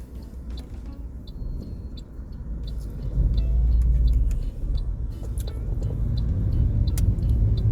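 A car drives a roundabout test route in Wanstead, its engine rumble rising as it changes up into second gear, with a steady indicator ticking over the low road noise inside the cabin.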